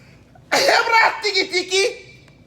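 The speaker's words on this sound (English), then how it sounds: "And I'm about to sneeze." A single close sneeze bursts out sharply, trailing into a few sputtering, stuttered exhalations.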